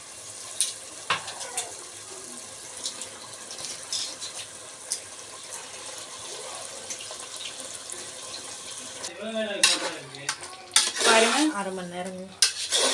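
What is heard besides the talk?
stirring chicken frying in masala and oil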